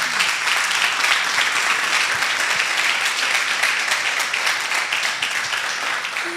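A church congregation applauds together in a steady, dense burst of many hands clapping, sustained and moderately loud across the whole stretch, with a faint voice at the edges.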